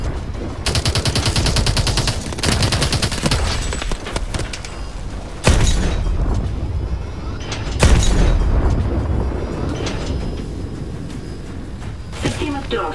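Dense automatic gunfire and heavy explosive booms from the video game Call of Duty: Advanced Warfare, loud and near, with sharp blasts punctuating sustained rapid fire throughout and a voice speaking over the combat.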